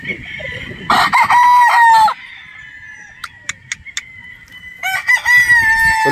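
A Boston Roundhead stag rooster with a straight comb crows loudly and close, two long crows with clucking and brief bird calls between them, no talking.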